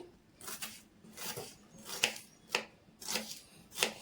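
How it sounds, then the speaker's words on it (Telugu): A knife slices onions lengthwise on a board, about eight crisp, moderately close chops in an uneven rhythm with short pauses between strokes. "ఇలా ఆనియన్స్ అయితే పొడవుగా మనం తరిగేసుకోవాలండి"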